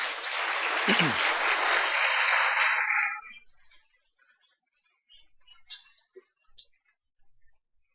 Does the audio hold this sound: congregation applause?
yes